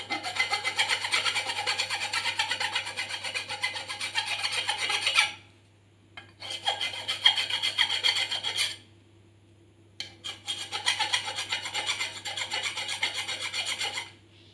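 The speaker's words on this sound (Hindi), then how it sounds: "अब इस कॉपर पाइप को हम फाइल से सही तरह से घिस लेंगे।" A hand file rasps back and forth over the cut end of a copper pipe in rapid gritty strokes, working in three long bursts separated by short pauses, close and steady with no talking.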